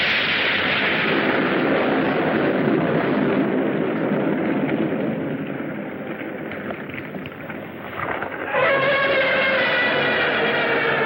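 A freezing bomb is fired at the giant turtle Gammera as a 1966 monster-film effect: a loud, roaring blast-like rush holds for about eight seconds, sags briefly, then gives way to a bright tonal musical swell.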